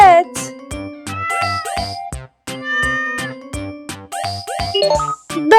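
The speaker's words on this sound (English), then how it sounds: "Cat." Cat meows, part of a children's animal-sound learning game, sound over a musical backing with chimes, several distinct meow calls spread across the clip at moderate loudness.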